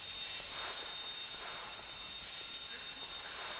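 An alarm bell rings continuously during the Paleto Score bank heist in Grand Theft Auto V story mode, a steady high electronic ringing that holds throughout over a wash of background noise.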